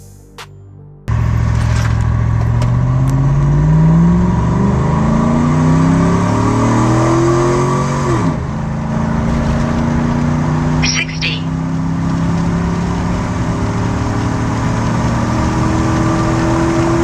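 A lightened NNBS Chevrolet Silverado truck on a drag run roars loudly from a standstill, its engine climbing through rising gear pulls with a distinct shift dip around the middle, close and sustained.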